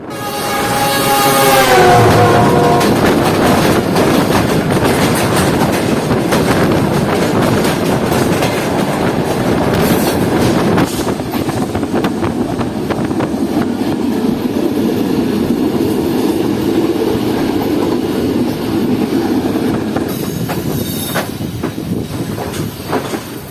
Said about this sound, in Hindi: ट्रेन इस वक्त जा रही है प्लेटफॉर्म 3 की तरफ।